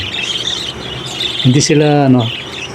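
Parakeets at a nest box give a short burst of sharp, harmonic squawks and squeals, loud and close, following brief chirps against a quiet background.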